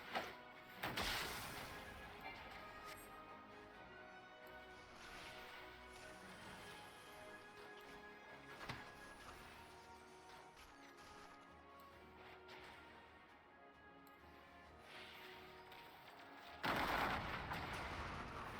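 Gunfire bursts in the video game Final Fantasy XIV, a sharp volley at the start and another near the end over a faint, steady game soundscape, with scattered lighter cracks in between and no voices.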